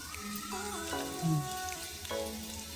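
Two finely chopped onions fry in oil in a pan for an egg dish, a low continuous sizzle running beneath steady sustained musical tones.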